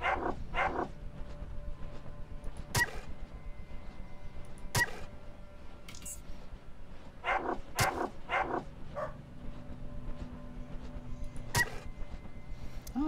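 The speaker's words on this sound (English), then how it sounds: "Oh, there's dogs here." Dogs in the video game Underrail bark in short, sharp pairs and clusters scattered across the span, fairly close and clear over a low background hum.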